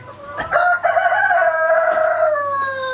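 Close, loud rooster crowing on a farm, one long drawn-out cock-a-doodle-doo call, with faint clucking from hens underneath.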